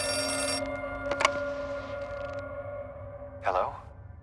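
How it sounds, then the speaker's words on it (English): A phone rings in the horror video game Outlast 2 as a pair of sharp electronic trills, followed after a pause by another brief ring, over a low droning ambient bed. "This time, Blake gets a phone call."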